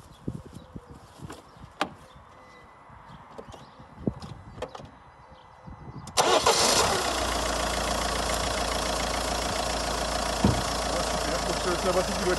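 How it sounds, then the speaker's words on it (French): A car engine is started with a jump starter booster, cranking after some clicks and handling noises, then catching and settling into a steady, loud idle that runs to the end, heard close by. "Et il reste juste à essayer de démarrer."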